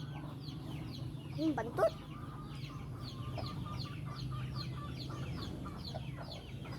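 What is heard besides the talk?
mother hen clucking near her chicks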